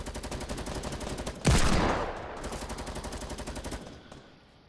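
Gunfire in a shooter video game: a rapid automatic burst, then a loud close blast with a ringing decay, then more fast repeated shots that fade out, with no talking.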